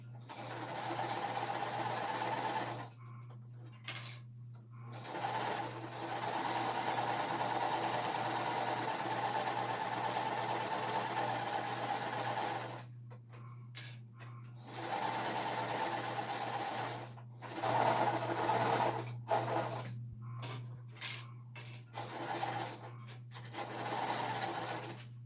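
A domestic sewing machine stitches cotton fabric along the presser foot edge in several long runs separated by short pauses, a steady close motor whir with rhythmic needle clatter.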